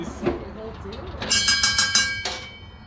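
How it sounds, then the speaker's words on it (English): A loud bell rings in several bright, metallic clangs close by at the entrance of the Queen Mine, an underground copper mine in Bisbee, Arizona, following some muffled talk and movement. "It's going to be a loud bell."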